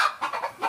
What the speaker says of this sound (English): You're a very good godmother chicken.